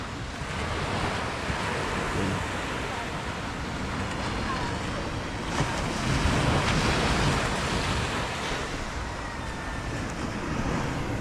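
Waves wash steadily onto a seashore, a broad continuous roar of surf mixed with wind buffeting the microphone, unbroken for the whole stretch with no clear speech.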